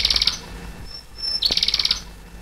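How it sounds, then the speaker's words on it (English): Bright, rapid canary trills in two bursts separated by a short quieter gap with faint high whistles, close and lively. "Sang the canary in her golden cage."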